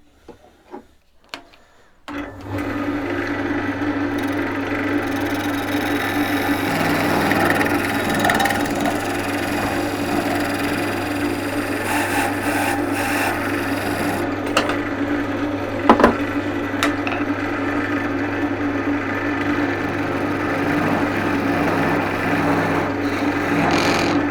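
After a few knocks, a wood lathe spins up and a tool cuts a tenon on a rough-turned wooden box, giving a steady, loud scraping hum that lasts throughout.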